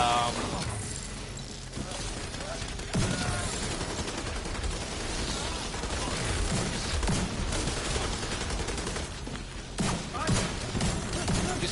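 Heavy gunfire from a shotgun in The Division 2, with repeated booming shots and mechanical clatter mixed into a busy firefight that keeps up from start to finish.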